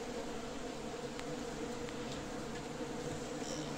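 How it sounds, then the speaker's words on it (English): Wasps swarming inside a beehive make a constant, faint, many-winged buzzing drone that stays steady for several seconds, close but low in level, with no voices. "Look at all the wasps."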